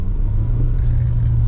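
A car on a Florida driving test accelerates toward 20 mph, its engine a steady low rumble and hum from inside the cabin, with no talking.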